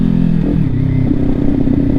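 A Kawasaki Ninja 400 motorcycle engine revving during rev matching, a loud, close, buzzy engine note that swells and shifts pitch in quick blips over two seconds, with a faint mechanical clatter underneath.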